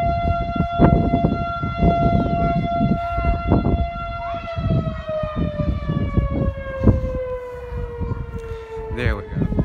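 Federal Signal STH-10A fire siren at the Bernville volunteer fire department sounds its attack signal: a loud, sustained rich tone with strong harmonics whose pitch slowly falls, over crowd noise and scattered knocks.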